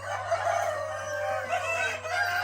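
A dense chorus of RTL (ready-to-lay) chickens clucking and crowing at close range as a newly arrived batch is gently placed on a small poultry farm, continuous and overlapping with a steady background hum.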